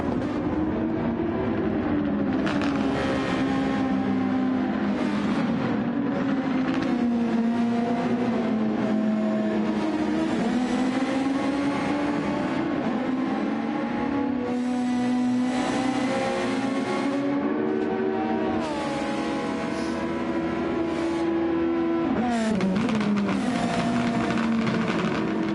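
Super Formula race cars lap Suzuka in a racing video game, engines droning and revving continuously with rising and falling pitch as gears shift, loud and steady throughout.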